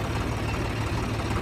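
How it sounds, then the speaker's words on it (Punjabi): Tractor engine idling and rumbling steadily up close while being shifted forward and back on a farm at night, a continuous low throbbing drone with no voices. "ਅੱਗੇ ਪਿੱਛੇ ਕਰਨਾ ਪੈਣਾ ਟਰੈਕਟਰ ਮੈਨੂੰ।"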